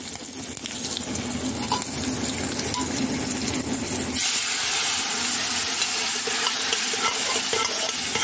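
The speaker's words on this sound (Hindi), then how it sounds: "अब इसमें उबली हुई दाल जो हमने उबाली थी वो पानी के साथ डाल देंगे।" Boiled chana dal and its water poured into a hot pan with fried green chillies, stirring and sizzling at first, then a louder rushing hiss as the liquid hits the pan partway through.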